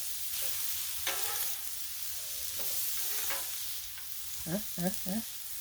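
Pork chops sear on a Blackstone griddle with a steady, loud sizzle. A spatula scrapes the flat-top now and then, and a quick run of strokes comes near the end.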